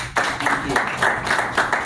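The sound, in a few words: audience applause for the speaker Mr. Adams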